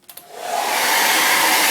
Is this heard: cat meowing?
no